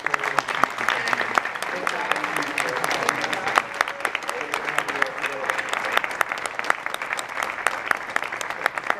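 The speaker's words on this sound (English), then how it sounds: "let's just give Justin and Charlie a round of applause and thank you." Audience applause after a Global Orchestra concert talk at an air and space museum, a dense, continuous patter of many hands clapping for several seconds, with some voices mixed in.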